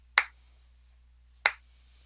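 Two slow, sharp claps ring out about a second apart, each a crisp isolated smack with a short decay, given as sarcastic applause in a tabletop fantasy game session.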